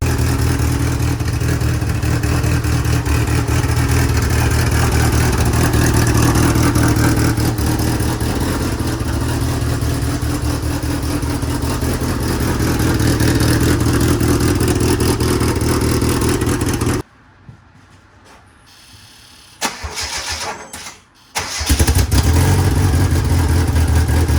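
Engine of a Mitsubishi DSM project car fitted with a mechanical fuel pump runs steadily at close range, then cuts off; after a brief quiet stretch the starter cranks and the engine fires back up to a loud idle.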